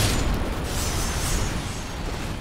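Enemies blowing up in Elden Ring, a dense rumbling wash of explosions and bursts filling the whole stretch, loud and continuous with no talk.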